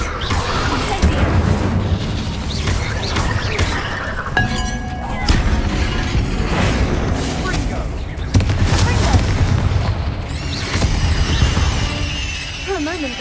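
An Incendio fire spell cast in Hogwarts Legacy, loud bursts of crackling, shattering impacts and booms layered over busy game combat noise, with a voice speaking briefly amid the clamor.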